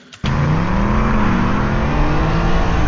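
A BMW M4 Competition launching in a drag race against a Mustang Dark Horse, the engine bursting in loudly after a brief quiet moment and holding a strong, rising roar as it accelerates.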